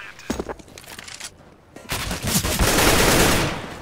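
Bursts of rapid gunfire in CS:GO, a few sharp shots early on, then a brief lull before a louder, sustained volley of fire that fills the back half.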